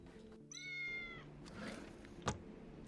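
A cat meows once in the video game Tales of the Neon Sea: a clear, drawn-out call, close and alone over a low game ambience, followed by a sharp brief knock.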